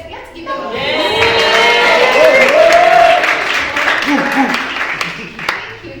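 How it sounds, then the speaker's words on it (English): Audience at a Nairobi meetup fireside session cheers for a birthday, a broad wash of voices and clapping rising over several seconds and staying fairly loud, with individual whoops and shouts standing out. "Have someone cheer? Yeah, cheer."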